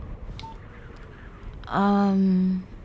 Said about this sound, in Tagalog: Oh, may nag-text yata sa'yo.